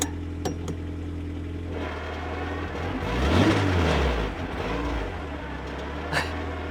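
An NA Mazda Miata fitted with a ZF dogbox idles steadily nearby, with a low continuous drone that swells into a brief rev midway before settling back to idle.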